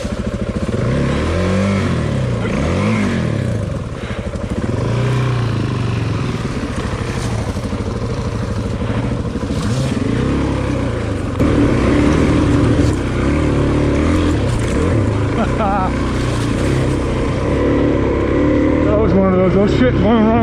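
A dual-sport motorcycle rides a rough off-road trail, its engine revving and dropping as the rider climbs over obstacles. The engine note is loud and close throughout, with wind and rattling mixed in.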